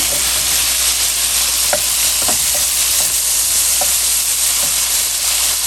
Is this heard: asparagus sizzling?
yes